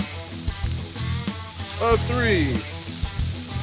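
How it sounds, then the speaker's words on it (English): Hamburger patties searing on an oiled griddle give a loud, constant sizzle close up, with a voice speaking over it and brief scraping from handling the food. "oh, hear that sizzle."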